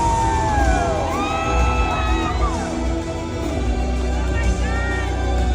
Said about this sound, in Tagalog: Ako po yung sumisigaw.